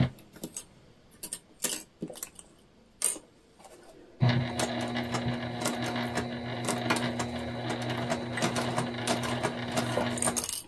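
A sewing machine runs continuously past the zipper tab of a beginner bag, a close, steady rattling hum after a few seconds of scattered handling clicks and knocks.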